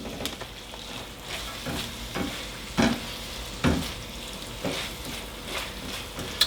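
A quarter wedge of red cabbage for moo shu pork sizzles in a hot pan, with a continuous fry broken by several loud scraping stirs at irregular intervals, close and clear with no talking.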